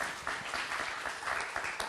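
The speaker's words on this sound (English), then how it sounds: "Round of applause" University lecture audience applauding in a UCLA sustainable living class, a brief wash of clapping from a seated crowd, steady and moderately distant, with no speech over it.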